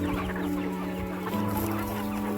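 Village chickens cluck busily while pecking at rotten pomegranates tossed to them, a close, continuous chorus of overlapping clucks.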